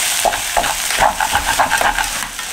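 Instant ramen noodles stir-fried with cooking oil and green onion in a cheap, poorly coated Daiso pot, close and loud: steady sizzling with rhythmic scraping strokes from stirring.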